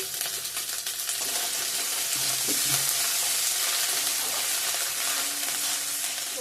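Onions and crushed ginger frying in a pan, a steady close hiss of sizzling oil with a few faint stirring knocks, continuous and without talk.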